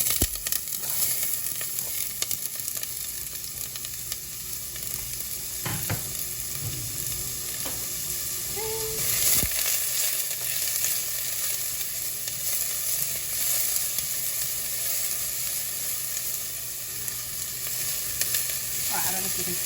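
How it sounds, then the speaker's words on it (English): Onion and a little garlic sautéing in hot olive oil in a saucepan, a steady close sizzle with occasional spoon stirring and scraping, fairly quiet and continuous. "I'm going to saute up the onion with a little bit of garlic."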